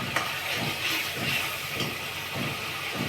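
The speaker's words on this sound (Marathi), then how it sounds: "अशा प्रकारे आपला मसाला शिजत आहे." Masala sizzling in a pan as it cooks, a steady bright hiss with soft crackling pulses, continuous and close, with no talking.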